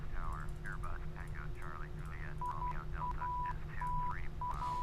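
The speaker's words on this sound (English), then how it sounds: "that's our Morse code kicking in there to let us know we're on the right frequency" A steady Morse code navigation beacon ident sounds in the FSX flight simulator aboard a Turkish A321, a thin repeated tone beeping in dots and dashes beneath a speaking voice and low cockpit hum.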